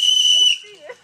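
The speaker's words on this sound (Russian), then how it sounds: "И свистни как следует, чтобы было заметно, что ты пришел." A person whistles a loud, steady, high note that cuts off after about half a second, followed by faint, brief vocal sounds.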